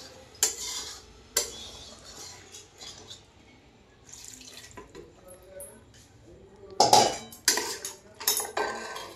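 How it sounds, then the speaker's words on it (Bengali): Spices being stirred around a wok-style kadai with a little water added, giving scattered metallic clanks and scrapes of a spoon against the pan. There are a few sharp knocks early, quieter scraping in the middle, and a denser burst of clatter near the end. "এইভাবে আমাকে মশলাটা চারদিকে ফিরিয়ে দিতে হবে"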